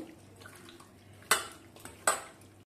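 Hands knead chicken pieces coated with chili powder and soy sauce in a bowl for honey chicken, a soft close-up squelching rustle broken by two sharp knocks against the bowl, with no talking.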